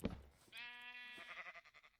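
A sheep bleats in Minecraft, one long wavering bleat rising after a short thump, close and clear with no talking.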